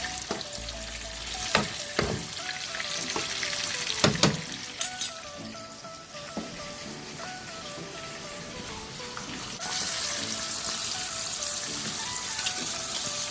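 Red snapper fries in a pan with a dense, crackling sizzle, punctuated by several sharp spits and clatters of utensils, then a louder, brighter hiss of frying that swells toward the end.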